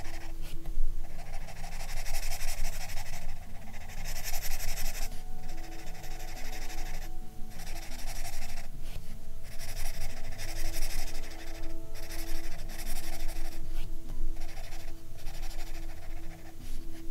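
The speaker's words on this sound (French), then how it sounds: "Ça glisse tellement sur le papier, c'est trop bien avec les crayons là." Coloured pencils glide and rub across paper during colouring, giving a steady, close scratchy texture that runs throughout with short pauses between strokes and faint tonal background hum.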